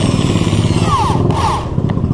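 A drill spins a double clutch part while a file is pressed against it, giving a loud, close motor whine with a ringing, scraping metal screech that rises and falls in short sweeps.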